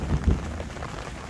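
Rain falling with a soft, close patter and a few heavier drops for a brief moment, no voices.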